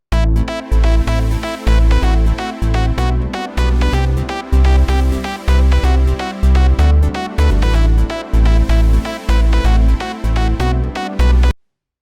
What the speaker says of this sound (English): super simple serum lead here because it's about as mono and boring